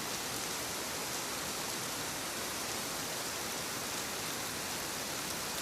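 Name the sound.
rain falling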